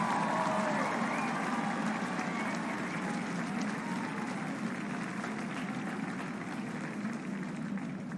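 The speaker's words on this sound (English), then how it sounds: "How about we give them a great round of applause?" A large stadium crowd at a baseball championship celebration applauds first responders, a broad, steady roar of distant clapping and cheering that stays even and slightly muffled throughout.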